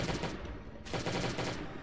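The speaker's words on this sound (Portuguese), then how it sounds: "Vou dar até mais um tiro de ultimato nele aqui, ó, pra matar logo." Gunfire aimed at a zombie in a video game, two quick bursts of loud cracking shots, the second starting partway through after a brief dip.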